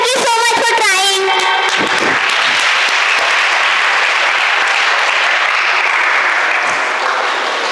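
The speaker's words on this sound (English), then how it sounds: "A big round of applause!" Loud, sustained audience applause at a school science session, dense clapping building after a brief opening burst and continuing steadily to the end.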